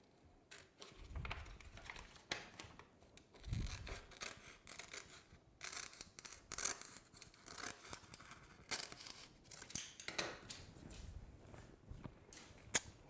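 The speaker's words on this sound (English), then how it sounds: "Why would I be doing this little trim on the edge right there?" Scissors snipping along the edge of a rhinestone transfer sheet on its carrier sheet, heard as a series of close, irregular cuts and rustling paper scrapes with no talking.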